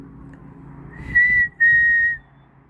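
A bird whistles near a boat, two clear sustained whistled notes close by, with a short gap between them, over faint low background rumble.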